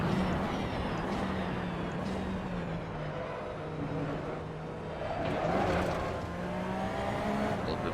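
A Porsche 911 RSR race car in the Assetto Corsa racing game hums at a steady, fairly quiet engine drone. The pitch shifts gently through corners, with some faint tire noise along the way.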